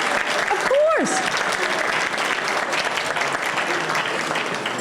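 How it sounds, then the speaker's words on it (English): Guests at the annual Boston Public Schools valedictorians luncheon clap loudly and continuously, a dense roar of many hands with a voice briefly audible near the start. "You can clap, of course."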